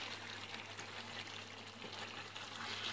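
Meat for kala bhuna fries in a pan while being stirred, a soft, even sizzle with faint scraping, quiet and steady throughout.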